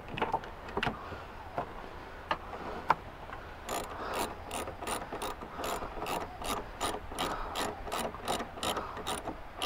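A hand ratchet clicks while tightening a fastener on a Banks cold air intake for a GMC Denali L5P diesel pickup, first irregular strokes, then a steady, close series of rapid ratchet clicks.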